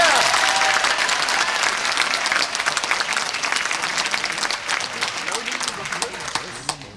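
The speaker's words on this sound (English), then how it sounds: "Would you applaud, please?" A crowd at a public talk on the cost of war applauds and cheers, dense sustained clapping that stays loud for several seconds before slowly thinning out.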